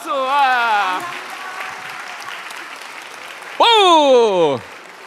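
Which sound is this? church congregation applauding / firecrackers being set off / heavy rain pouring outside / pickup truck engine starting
church congregation applauding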